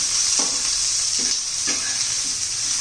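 Tomato and capsicum fry in oil with a bright, continuous sizzle, while a spatula stirs and scrapes the pan in a few soft, evenly spaced strokes beneath the hiss.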